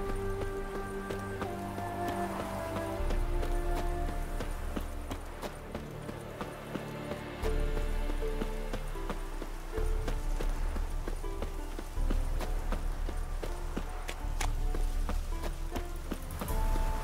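Horses clip-clop in The Witcher 3 at what looks like a racing spot, a steady run of hoof beats over low ambient game music, with no talking.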